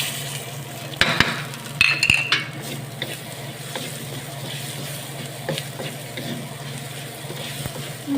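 Garlic frying in a pan as it is stirred, a soft steady sizzle with a few clinks and scrapes of the utensil near the start, close up, without speech.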